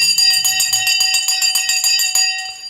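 A bell rings to mark the stock market close on a Friday, a loud, rapid, continuous clanging with bright metallic overtones that carries on for nearly three seconds before starting to fade.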